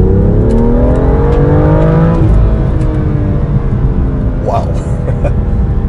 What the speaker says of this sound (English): We'll drive around this Sport Plus to get an impression of what it accelerates like.